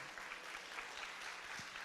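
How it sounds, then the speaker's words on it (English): Faint, steady applause from an audience at a stakeholders' group presentation, a soft continuous patter of many hands clapping at a distance. "A round of applause to Michelle De La Uz."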